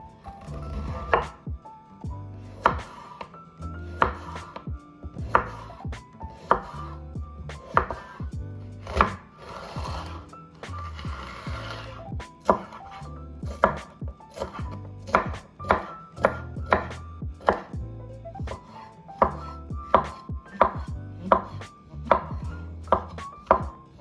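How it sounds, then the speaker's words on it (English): Knife chopping zucchini, red banana peppers and mushrooms on a board, a steady run of close, crisp cuts with brief pauses, alone without talk. "I start by chopping the vegetables."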